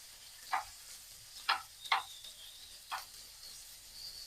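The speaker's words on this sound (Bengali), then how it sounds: "এখন কাঁকড়াগুলো আমি লাল লাল করে ভেজে নিব।" Crabs frying in oil until red give quiet, sparse sizzling spits: four or five short crackling bursts over a low, faint background hiss.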